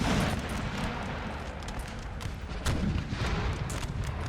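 Battlefield artillery fire in Napoleon: Total War, a dense layer of distant booms and rumbling volleys rolling continuously under the scene, fairly faint with no speech.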